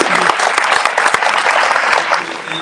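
Applause from an awards-gala audience honoring Hispanic business achievement: dense, sustained clapping that holds loud and even throughout, with a few sharper individual claps standing out near the front.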